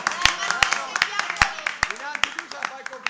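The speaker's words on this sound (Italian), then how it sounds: "E un applauso a Marchesino" A small audience applauds someone named Marchesino, with sharp irregular claps ringing out across about three seconds, mixed with voices talking and cheering over the top.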